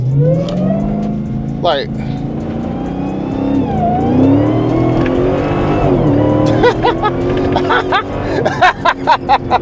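A Dodge Demon 170 with a 1,025-horsepower engine and freshly replaced spark plugs revs hard and accelerates, its rising roar loud and close, while someone talks excitedly over it.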